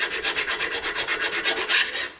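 A Pittsburgh hand file from Harbor Freight rasps at metal during a home brake job on a 2002-2007 Jeep Liberty KJ, with about a dozen quick, evenly spaced strokes, close and alone.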